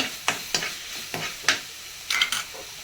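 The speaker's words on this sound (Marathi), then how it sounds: "तर हे मी आता भाजते कांदा जो भाजला आहे तो थोडा लाल होऊ द्यायचा" Onion roasting in a pan for Malvani sukka chicken, a low steady sizzle broken by several scraping stirs of a spatula at roughly half-second intervals, close and with no one speaking.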